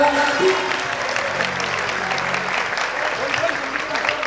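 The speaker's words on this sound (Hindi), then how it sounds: "हाथ ऊपर उठा के ताली बजाइएगा" Large crowd applauding with hands raised at a Jain Panchkalyanak religious ceremony in Vaishali, sustained loud clapping with a voice and some tonal music sounding underneath.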